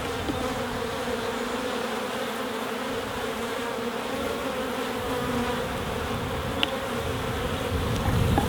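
Honeybees buzz around a beehive, a dense, steady swarm hum close by that drones continuously throughout, with no talking.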